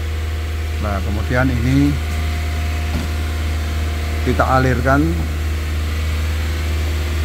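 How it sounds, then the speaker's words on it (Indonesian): Car engine held at a steady 2000 rpm, throttle propped with a PVC pipe during a Blackcore fuel-system cleaning treatment; a constant close hum runs throughout beneath someone speaking. "dengan cara menyalakan mesin di 2000 rpm."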